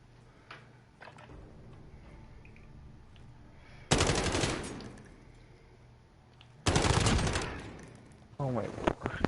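Video game gunfight: two loud bursts of rapid automatic gunfire, each lasting a couple of seconds, break a quiet stretch of faint ticking, and a voice begins talking at the very end.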